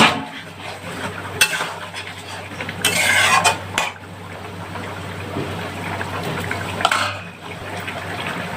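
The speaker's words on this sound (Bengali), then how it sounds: "এইবার আমি মাছগুলো দিয়ে দেব।" Koi fish slide into a pot of simmering curry with chandramukhi potatoes, stirred with metal utensils that clink and scrape against the pan, a bubbly sizzle rising in two bursts amid steady kitchen clatter.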